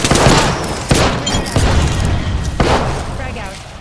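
Heavy gunfire fills a shooter video game, loud close bursts of shots with sharp repeated cracks and booms over a dense, noisy battle background.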